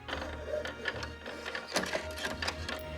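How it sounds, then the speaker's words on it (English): Sewing machine stitching fabric for a Disney princess costume: quiet, uneven bursts of rapid mechanical ticking and clatter over a low hum, fairly close, with no talking. "I hear sewing goes a lot better if your machine is threaded."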